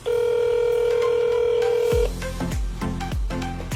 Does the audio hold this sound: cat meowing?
no